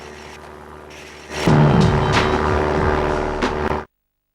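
Propeller airplane in the PS2 skating game Aggressive Inline, airfield level: a loud engine drone swells in suddenly, holds for about two seconds, then cuts off abruptly.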